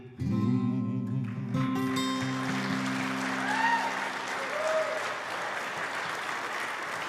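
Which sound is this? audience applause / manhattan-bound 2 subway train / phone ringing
audience applause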